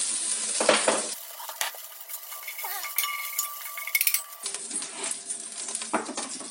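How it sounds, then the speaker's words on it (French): Carrots and onions sizzle loudly in a hot pan as vinegar goes in to deglaze a mustard rabbit dish, with clinks and scraping of a utensil against the pan and a brief drop into quieter cooking. "Pour décoller un petit peu les sucres qu'il y a dedans, que c'est très bon, tu mets un petit peu de vinaigre"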